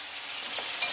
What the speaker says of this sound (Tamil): இப்போ எண்ணெய் ஊற்றி வெந்தயம், வெங்காயம், பச்சை மிளகாய் போட்டு வேகுது.